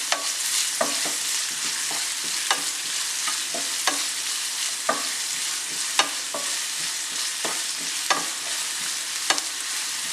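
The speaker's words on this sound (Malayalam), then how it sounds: "സവാള നന്നായിട്ട് വഴറ്റിയെടുക്കണം." Onions with a little salt sauté in a pan for pork curry. A constant close sizzle carries on while a utensil scrapes and stirs in a regular rhythm, with no voices.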